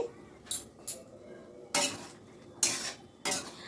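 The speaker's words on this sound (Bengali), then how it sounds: "আবার একটু নাড়াচাড়া করে নিচ্ছি" A spoon stirs fish and potato curry in a pot, making several sharp scraping clinks at irregular intervals over a faint simmer, with no talking.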